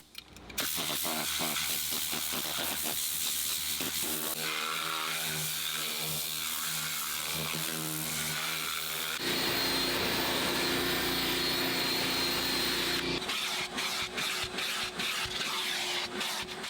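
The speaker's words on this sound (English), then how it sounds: "we're gonna go ahead and vacuum that up." A vacuum cleaner sucks loose debris from a car interior's mats, door panels and center console, a loud continuous whine and roar that changes pitch as the nozzle moves, close and steady throughout, with no talking.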